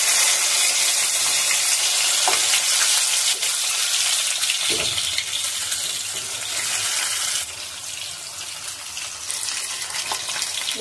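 Hilsa fish pieces frying in oil in a pan: a loud, continuous hissing sizzle fills the whole stretch, easing slightly partway through, with no talk.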